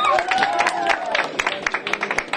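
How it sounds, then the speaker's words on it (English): Applause from a crowd at an elementary school library opening, many hands clapping in a dense burst that thins into scattered claps, mixed with cheering voices and talk. "Give her a round of applause"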